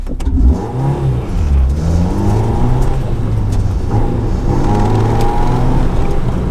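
A modified Honda car engine revs hard while driving, its pitch climbing and falling through gear changes and VTEC engagement, loud and close throughout with no talking.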